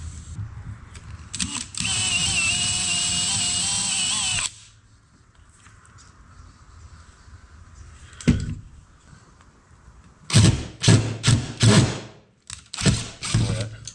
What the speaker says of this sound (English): I better drill it to full depth